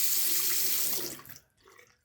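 Water streams steadily from a household faucet with low water pressure, a close hiss that cuts off partway through, leaving a few faint drips and trickles.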